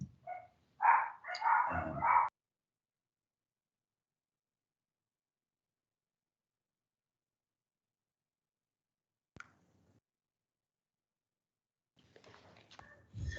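A dog barks in a quick burst of several loud yaps at the start, heard through a home microphone during an online meeting, followed by long silence and a few faint clicks and rustles.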